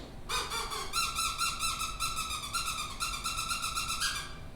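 Rapid pulsing squeaks from a predator call's mouth squeaker mimicking distressed prey, a fast regular series of high chirps over a quiet outdoor backdrop.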